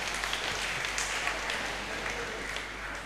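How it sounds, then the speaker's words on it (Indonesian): Audience applause in a church during a Sunday Mass homily, a steady, dense wash of clapping that holds at even loudness for the whole stretch, with no speech over it. "Kita kasih tepuk tangan dulu."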